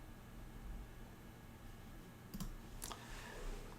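A computer mouse clicking to install a Chrome browser extension, with two quick faint clicks close by against a low steady background hiss.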